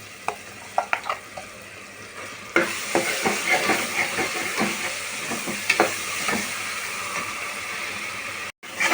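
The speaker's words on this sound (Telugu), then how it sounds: "వేసేసి మసాలా పచ్చివాసన పోయేంత వరకు చక్కగా వేగేలాగా తిప్పుకుంటున్నాను. చూడండి మసాలా వేగుతుంది." Ground masala paste of onion, coriander seeds, poppy seeds, cinnamon and cloves frying in a pan for gongura mutton, sizzling steadily, with a spoon scraping and stirring in repeated strokes, louder once the paste goes in.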